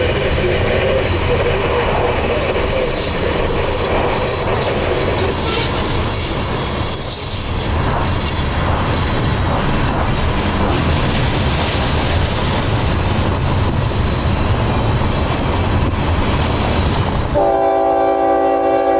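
A CSX freight train with locomotive 971 passes close by heading southbound near Dade City, its wheels rumbling and clacking loudly while the horn sounds in long blasts, ending with a sharp sustained horn tone.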